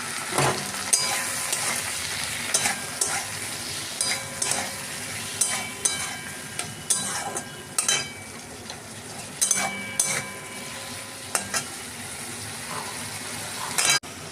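Bengali fish curry spice paste hitting a hot pan and frying, a steady sizzle with repeated stirring scrapes and clinks running throughout, close up, no voices.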